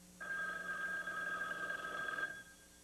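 Telephone ringing indoors in a sitcom scene, one continuous electric bell ring lasting about two seconds at moderate loudness, then stopping abruptly.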